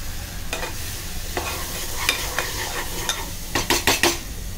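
Ground masala paste is sautéed in oil over medium-high heat for a brinjal and potato bhaji, a soft sizzle running underneath as a spoon scrapes and knocks against the pan in irregular strokes, quickening into a cluster of stirs at the end.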